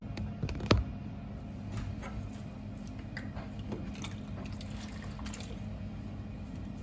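Hands swish and dabble in a basin of green dye water used for dyeing bath mats, a faint, soft sloshing and trickling with one brief knock near the start.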